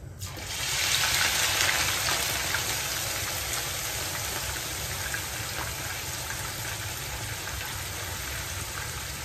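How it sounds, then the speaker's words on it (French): Two onions frying in a pan for Congolese-style chicken thieboudienne, a steady hissing sizzle that swells in within the first second and then holds evenly to the end, with no voices. "Nous allons maintenant faire revenir les oignons, les 2 oignons."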